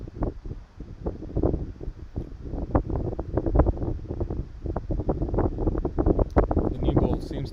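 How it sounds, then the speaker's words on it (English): Strong wind buffets the microphone at an outdoor cricket match on a cloudy evening, a loud continuous low rumble with gusty bursts throughout. "Cloudy evening, very windy."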